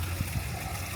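Water trickles and splashes steadily into a buried underground cistern, a continuous close rushing wash with faint gurgles throughout.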